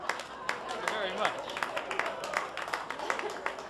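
Comedy club audience applauding a stand-up comic's joke, scattered claps under a steady crowd murmur, moderately near.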